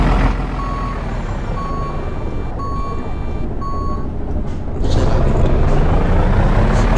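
Tata truck in a driving video game reversing, a regular series of evenly spaced electronic beeps over a loud steady engine hum, the engine swelling louder toward the end, no voices.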